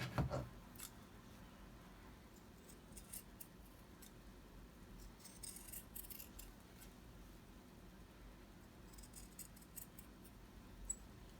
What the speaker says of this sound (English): I'm going to cut out the second shoe